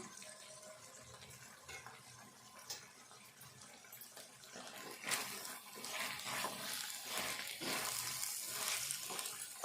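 Ivy gourd and potato curry frying in a covered pan, giving a steady close hiss and crackle that grows denser and louder toward the end, with no talk.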